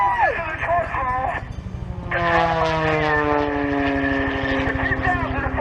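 An aerobatic propeller airplane performs a torque roll at the Dayton Vectren air show in 2014, its engine droning loud and steady with shifting pitch as it hangs and climbs, while a voice talks over it in the foreground.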